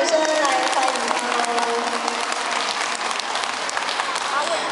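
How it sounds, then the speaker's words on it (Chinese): Audience clapping at an aquarium kelp forest feeding show as a diver descends into the tank, steady mid-distance applause from a crowd in an indoor hall, with a few voices underneath. "给他一个热情的掌声来欢迎他"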